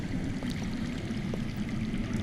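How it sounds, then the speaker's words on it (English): Water flowing somewhere underground in a Game of Thrones video game, a steady faint rushing trickle with no talk over it. "I hear water. From underground."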